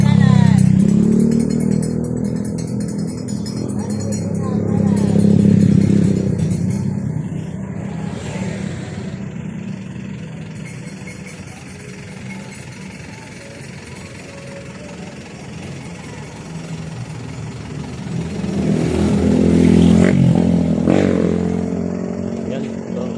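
Engines of cars and motorcycles in a long traffic jam in Sipocot rumble and drone nearby, swelling as vehicles rev and pass, with a voice speaking over the steady road noise.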